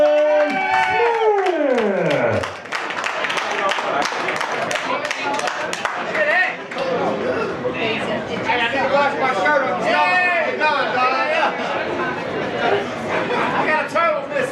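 A crowd at a fighters' weigh-in event claps and cheers loudly and continuously, with dense chatter and voices over a PA throughout.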